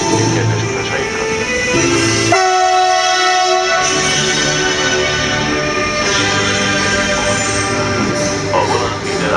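A Taurus locomotive hauling intercity train IC 916/936 at a Budapest station gives a loud electric whine whose tones step and shift, over steady rumbling station noise.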